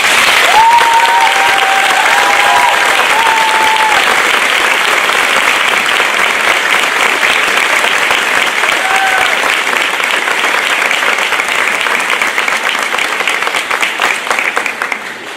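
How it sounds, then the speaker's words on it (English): Sustained audience applause at a fifth grade academic awards ceremony in a school, many hands clapping steadily and loudly for the full stretch, with a few faint voices rising above it before the clapping thins at the end. "Please give a round of applause."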